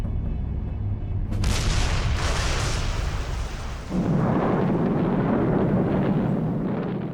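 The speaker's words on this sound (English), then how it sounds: "Other aircraft dropped incendiary bombs." Incendiary bombs explode during a WWII air raid: a deep, rumbling roar swells into bursts of crackling blasts, then a heavy, continuous booming rumble, loud and unbroken.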